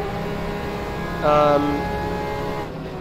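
Porsche 911 RSR GTE race car engine in the racing game rFactor 2, a steady engine drone that swells into a louder, higher rev for a moment before settling back to a constant hum.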